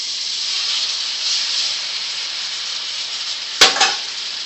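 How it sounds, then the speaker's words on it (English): Steady bright sizzling hiss of shrimp frying in butter in a hot pan, with a sharp clatter near the end. "in with our shrimp. You hear that nice sizzle?"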